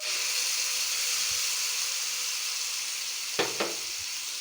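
Ground tomato-mint chutney cooks in a hot tempering, giving a steady, even sizzle throughout with two brief scraping clicks of the stirring spoon near the end.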